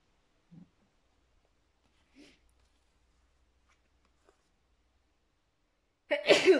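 Near silence with a few faint small noises, then a single sharp, loud sneeze from a woman bursts out close to the microphone at the end.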